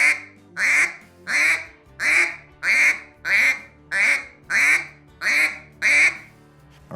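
A hand-blown duck call mimics several ducks on water: about ten evenly spaced, loud, nasal quacks in a steady rhythm, each a short bright burst separated by brief pauses.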